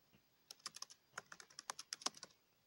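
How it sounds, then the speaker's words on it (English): Fast keystrokes on a computer keyboard during a horror game session, a quick burst of a dozen or so sharp clicks, close and fairly quiet, with no talking. "let me just slam my face on the keyboard"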